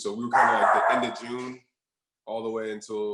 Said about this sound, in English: that's my dog, my bad.